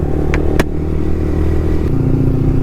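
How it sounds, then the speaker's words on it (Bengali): Motorcycle engine running without a full-system exhaust, alongside an inline-four superbike and ordinary bikes at a drag-race lineup; a steady, fairly subdued engine drone with a couple of brief clicks, the tone shifting slightly near the end. "ফুল সিস্টেম এক্সজস্ট লাগানো নেই, তার জন্য সাউন্ডটা কম হচ্ছে।"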